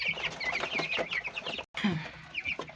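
Chickens cluck and chirp steadily inside a poultry house on clean bedding litter, a busy close flock chorus with a brief dropout partway through.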